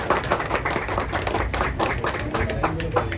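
Clapping from a crowd at a political welcome gathering for an NCP leader in Mumbra, a dense run of quick, uneven hand claps that stays loud and close throughout.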